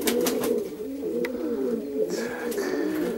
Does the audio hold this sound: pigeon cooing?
yes